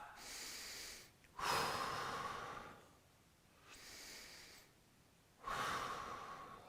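Heavy, forceful breaths during a power vinyasa yoga session, three long hissing exhales with quiet pauses between them, close and loud with no talking.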